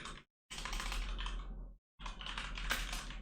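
Fast, continuous typing on a computer keyboard in a lecture room, close and steady clicking in two bursts with a short pause between, no talking.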